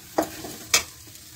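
Taro root mash with tamarind water, Bengali bharta style, being stirred in a pan: two short, close scraping strokes over a faint sizzle, with no voices.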